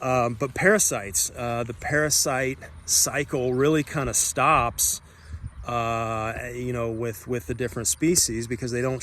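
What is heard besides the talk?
None of the usual background noises is heard.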